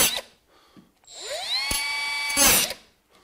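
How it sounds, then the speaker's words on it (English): Cutoff saw spinning up with a rising whine and biting into a misfired staple in shop fitting work, one short cut of about two seconds with a sharp grinding burst at the end. "So the best way I know how to fix it is with a cutoff saw."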